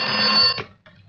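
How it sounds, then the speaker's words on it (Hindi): A telephone rings during a Bollywood romance film scene, a loud, buzzy bell trill that cuts off sharply after half a second, followed by a short faint tail. "हां रीटा का फोन है"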